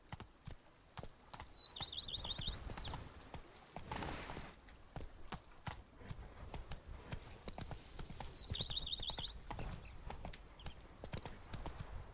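Hooves of a galloping horse in The Witcher 3 clatter in quick repeated bursts, with bright bird chirps breaking in twice above the pounding rhythm.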